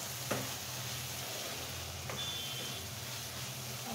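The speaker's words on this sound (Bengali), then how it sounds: "এখন আমি খুব সুন্দর করে এটা ভোনা ভোনা করে কষিয়ে নেব যতক্ষণ না তেলটা ছেড়ে দেয়" Spice paste stir-frying in oil for a chicken and potato curry, a continuous low sizzle with a couple of sharp scrapes from the stirring spoon, close up, with no talking.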